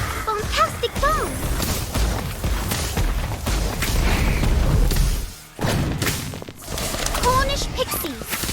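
A Fantastic Bomb spell detonates in Harry Potter Magic Awakened, a loud booming blast with rumbling thuds layered over game music and voices.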